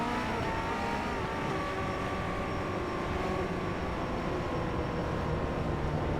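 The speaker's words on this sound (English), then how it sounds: "they pull away behind that iRacing Silverado" Race cars in the iRacing sim pull away behind a Silverado pace truck on a half-mile dirt track, their engines blending into a steady, dense drone that holds level throughout with no talking.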